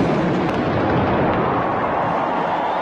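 Ceremonial cannon gun salute at a Rwandan presidential swearing-in, a loud sustained rumbling blast with booming low roar filling the whole stretch, no clear separate shots, outdoors.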